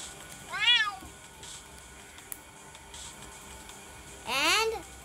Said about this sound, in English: Okay, now again meows. Three meows.